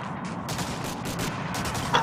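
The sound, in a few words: gunshot in video game Medal of Honor Allied Assault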